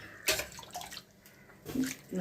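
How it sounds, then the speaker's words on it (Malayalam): Water is ladled from a large steel ladle into a squid curry pot. Two brief, soft splashes come a moment apart in a quiet kitchen. "നാല് തവി വെള്ളം ഞാൻ ഒഴിച്ചിട്ടുണ്ട് വലിയ സ്റ്റീൽ തവിക്ക്"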